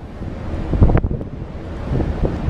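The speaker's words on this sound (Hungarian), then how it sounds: "Itt megint lesz jó kis szél, ha bár nem is, nem vészes." Strong wind buffets a microphone on the open deck of the ferry Sardinia Vera between Bastia and Livorno, a loud continuous roar with gusty bursts over distant sea wash, no talking.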